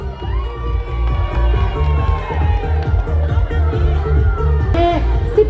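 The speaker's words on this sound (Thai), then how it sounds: "ขอเสียงปรบมือดัง ๆรอบนะครับ" A crowd cheers and shouts continuously at a children's contest, with excited young voices and whoops rising over a dense, steady wall of noise that lasts throughout.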